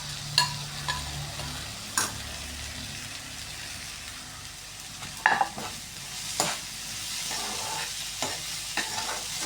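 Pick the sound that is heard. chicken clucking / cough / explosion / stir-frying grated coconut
stir-frying grated coconut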